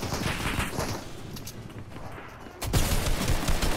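Rapid bursts of gunfire crackle through a Fortnite game soundscape, growing louder and denser near the end.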